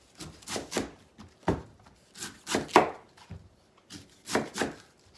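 A smooth knife saws back and forth to strip the hard shell off a coconut. Rough scraping strokes come in short irregular bursts with pauses between them, close up and moderately loud, with no talk.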